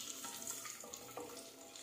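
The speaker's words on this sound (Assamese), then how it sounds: "এইখিনি আমি অকনমান ৰঙচুৱা হোৱালৈকে ভাজিম" Cashews and raisins frying in oil over a low flame for chicken pulao, a soft steady sizzle with faint stirring scrapes, fairly quiet and continuous with no talking.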